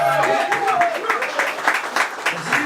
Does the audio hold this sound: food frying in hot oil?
no